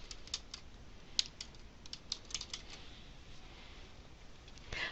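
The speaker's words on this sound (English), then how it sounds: "I'm going to type in adventure." Quiet typing on a computer keyboard while entering a search term in a database program, a scattered run of soft key clicks with one sharper tap, close up over faint room hiss and no talk.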